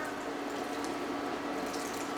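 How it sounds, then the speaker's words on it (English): Water pours steadily into a cooking pot of rice cakes in a home kitchen, a continuous close splashing rush with no talk. "So I'm gonna add a little bit more water."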